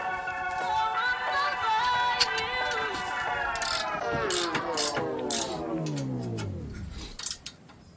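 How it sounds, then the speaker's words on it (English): A ratchet wrench drives bolts into the brake caliper bracket of a 2006 Scion xB, giving rapid clicking bursts over a descending whine, with clanks and a couple of sharp knocks near the end. "our bolts are going to screw in through those two holes right there"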